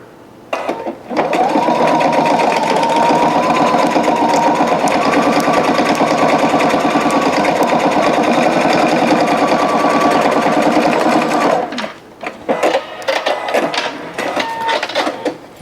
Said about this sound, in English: we're going to sew down the other side panel